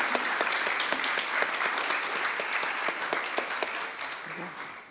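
Sustained applause from a festival audience after an expert panel discussion, steady dense clapping throughout that thins and fades slightly toward the end, with no voices over it.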